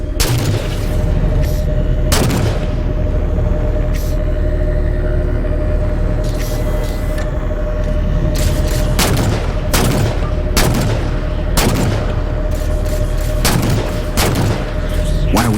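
Gunfire and heavy explosions in a Halo 4 battle, with sharp bursts of shots and booming blasts punching repeatedly through a constant loud engine-like rumble and a steady tone.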